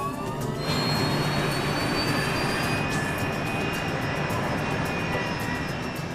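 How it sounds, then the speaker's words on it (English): A British-built BAE 146 commuter jet with turbofan engines roars steadily at close range, a broad continuous rush with a rising whine layered on top, heard alone without talk. "they're piloting a British-built BAE 146 commuter jet. With quiet turbofan engines"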